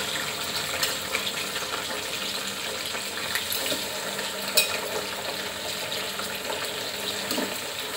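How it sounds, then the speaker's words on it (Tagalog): Milkfish (bangus) fries in oil in a pan, a steady close hiss and sizzle with small pops running throughout, no voices. "At ilagay na natin magsimula na tayo magprito."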